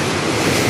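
Ocean surf surges against coastal rocks in a loud, continuous roar mixed with wind noise on the microphone, filling the short moment.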